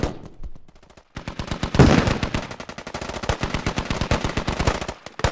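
Rapid machine-gun fire in a video game rattles in long, dense bursts after a brief pause, loud and close, with no talking over it.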